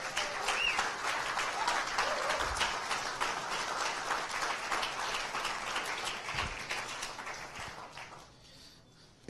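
Congregation in a church service bursts into sustained applause that fills most of the stretch, dense and steady, then thins and fades out near the end.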